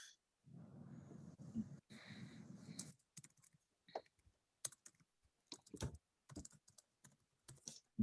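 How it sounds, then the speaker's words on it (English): Someone types on a computer keyboard, tapping out scattered, uneven clicks and short bursts of keystrokes close by, after a brief stretch of soft breathy noise at the start. "We are typing."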